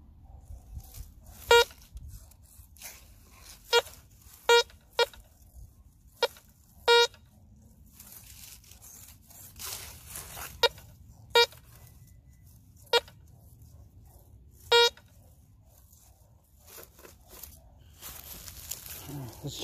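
A metal detector gives sharp electronic beeps in an irregular series over a low rumble of outdoor noise.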